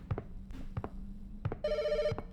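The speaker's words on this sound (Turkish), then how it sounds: "telefon çalıyor" An old-style telephone bell rings in a horror video game set on a highway, one short burst of ringing over low ambient hum and footsteps, with no talk.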